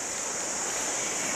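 Water trickles in a small stream beside a footbridge, a steady, even rush with a bright hiss and no breaks, fairly soft and close, with no voices.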